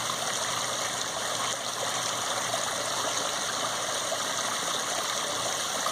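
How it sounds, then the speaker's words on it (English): Steady rushing water from a backyard waterfall and gurgling stream fills the scene as a continuous hiss with no talking. "you got the nice gurgling to one side, the waterfall to the other side"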